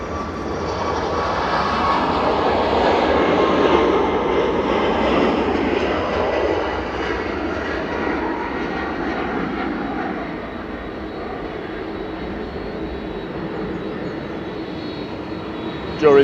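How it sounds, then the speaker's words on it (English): A Ryanair Boeing 737 MAX 8-200 jet departs Manchester Airport for Dublin, its engines a broad, loud roar that holds steady before slowly fading into the distance. "Ryanair departed in parallel to Dublin with flight 553, operated by Max 8 200."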